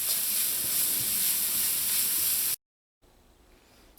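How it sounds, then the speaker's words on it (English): Onion, garlic, pepper and bandhanya sizzling in a hot pan, a loud, even frying hiss that stops abruptly, leaving a short silence and then a faint, quieter sizzle. "saute this until everything is nice and soft"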